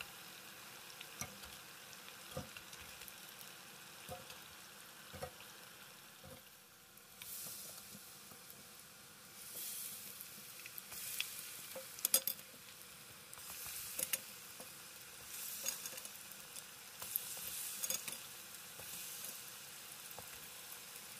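Cauliflower frying in a shallow layer of oil gives a faint, steady sizzle with soft crackles and pops, rising in bursts of louder hissing partway through.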